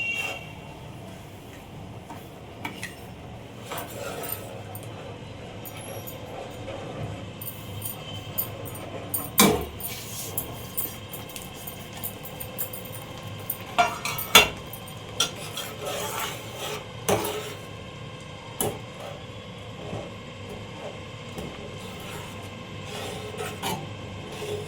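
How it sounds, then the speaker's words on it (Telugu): A utensil stirring semolina in a pot for rava halwa, soft continuous scraping and rubbing with occasional clinks against the pan, close and fairly quiet over a steady background hum. "రవ్వ వేసుకొని కలుపుకుందాము."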